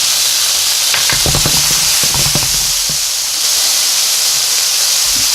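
Garlic and ginger sizzling in a hot stir fry pan for a pork stir fry, a steady loud hiss with a few quick clacks of stirring.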